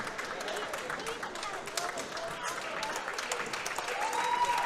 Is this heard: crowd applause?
yes